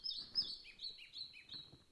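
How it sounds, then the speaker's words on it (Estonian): Birds sing in the morning at sunrise, several quiet, high chirping phrases overlapping one another in a calm, faint outdoor setting. "päike tõuseb, linnud laulavad"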